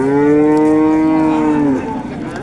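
A cow at the Chust livestock market lets out one long, loud, close moo that holds steady, then drops and fades toward the end.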